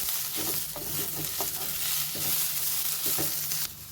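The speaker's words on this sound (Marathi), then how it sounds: "आता हे सगळं आपण अजून एक तीन चार मिनिटं परतून घेऊया" Onion-coconut masala with coriander stems sautéing in a pan, a steady broadband sizzle with repeated scraping stirs of a spatula throughout, close and moderately loud, no voices.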